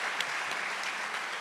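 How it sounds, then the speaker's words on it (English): Audience applause at a public forum, a dense steady wash of clapping from a crowd, sustained evenly throughout. "So give her a round of applause."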